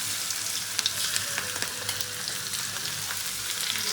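Food frying in hot oil at home for a tea-time snack, a steady close crackling sizzle with scattered pops throughout.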